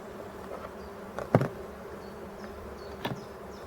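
Bees hum steadily around an opened Dadant beehive in a forest, a faint continuous buzz with a few louder close passes as single insects fly near.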